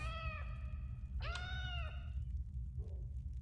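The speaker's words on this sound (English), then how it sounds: "Why the hell we hear cats when we're killing dogs?" Cats meowing in the S.T.A.L.K.E.R.: Shadow of Chernobyl video game, three distinct meows, two long and clear and a short softer one at the end, over a low steady background rumble.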